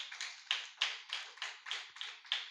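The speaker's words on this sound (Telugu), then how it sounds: "గట్టిగా చప్పట్లు కొడదామా?" A church congregation claps in a quick run of about eight sharp, evenly spaced bursts, fairly close and crisp, with no talk over it.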